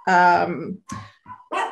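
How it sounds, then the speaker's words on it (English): Dogs bark close by: one long, strained bark followed by three shorter yips and barks in quick, uneven succession, with no other sound between them. "And there's my dogs."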